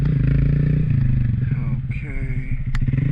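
A motorcycle downshifting and revving during wheelie practice, a loud close engine that drops in pitch and then climbs again, with a brief scrape near the end.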